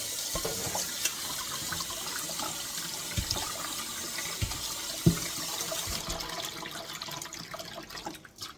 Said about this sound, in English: Some running water over the meat, and I'm just rinsing it off